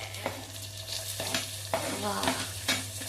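Chopped tomatoes sizzle and fry in a pressure cooker with garlic, stirred in a few scraping bursts over a steady frying hiss, close and moderately loud with no talking.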